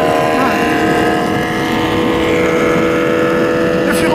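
Loud combustion-engine superbike of the Ninja H2 or S1000RR kind roaring past, a continuous harsh engine drone held at high level with a faint rise at the end.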